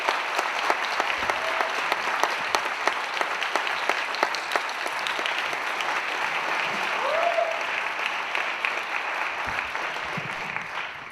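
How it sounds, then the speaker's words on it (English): An audience in Reykjavik applauds at a film festival closing ceremony, a long, full wave of clapping with sharp individual claps standing out and a brief whistle or cheer rising partway through. "a round of applause that echoes through the entire city of Reykjavik"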